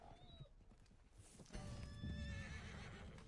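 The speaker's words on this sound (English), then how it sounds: "I'll get off my horse" A video game horse gives a bright, high whinny, then its hooves clip-clop loudly and close as it shifts and moves.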